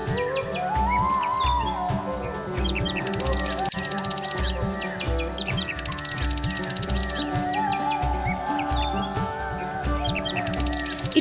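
Wild forest birds in Kanha and Pench chirp and call continuously, a dense overlapping chorus of tweets and whistles at close to mid range, steady and loud throughout with no voices.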